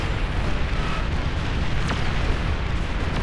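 Continuous low rumbling explosions in the naval real-time strategy game Beyond All Reason, heavy booms blurring into a steady roar during a large battle.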